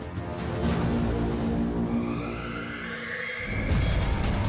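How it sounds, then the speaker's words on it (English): A truck pulls away on a California road with tires screeching, a steady squeal and engine roar that shifts in pitch before a louder surge near the end, with no talking. "As the back and forth heats up, the truck driver starts to pull away."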